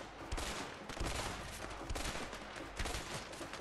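A dense, continuous firefight in A Way Out, with many overlapping gunshots and repeated louder bursts over a roar of background noise, and no talking.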